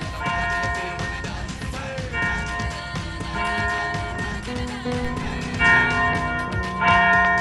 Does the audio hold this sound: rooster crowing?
no